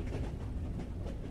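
Steady low rumbling train ambience from inside a railway carriage, a continuous muffled roll with faint rhythmic clatter, moderately quiet and without voices.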